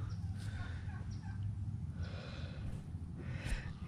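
Turkeys gobble in several short, rapid bursts over a dense rumble of outdoor background noise on a farm where a livestock guardian puppy roams, the calls moderately close and fairly faint.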